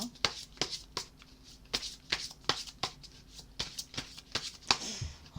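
Tarot cards are shuffled up close in quick, crisp riffles and taps, about a dozen sharp bursts in a steady, uneven rhythm.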